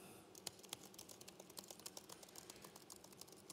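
Rapid clacking keystrokes on a computer keyboard, close and fairly quiet, tapping in an irregular stream of sharp clicks throughout with no talk over it.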